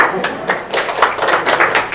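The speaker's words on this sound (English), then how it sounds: "The golf clap." A handful of light, polite claps, a golf clap, sound close by in a room during a balance and posture exercise session, quick soft slaps spread over a couple of seconds, mixed with talking.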